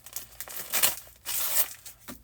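A package taped on both sides is torn open by hand, close up, giving several quick ripping and crinkling bursts of tape and paper over about two seconds.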